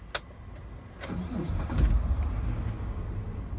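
A 2001 Mitsubishi Shogun automatic with a 3.5 litre naturally aspirated V6 GDI engine, after a carbon clean service: a few sharp clicks, then the engine catches and settles into a steady, close, low rumble.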